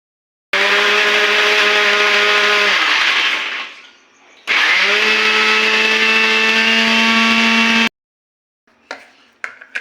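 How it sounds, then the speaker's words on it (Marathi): A kitchen mixer grinder whirs at high speed as it grinds green chillies with salt, running in two loud bursts of a few seconds each with a pause between them, then a few faint clicks at the end. "पण आता मिक्सरमध्ये चांगलं बारीक करून घेऊया।"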